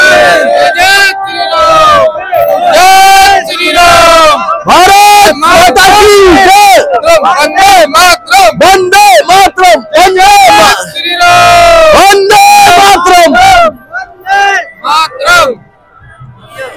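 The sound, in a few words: large crowd chanting at Republic Day parade in Lucknow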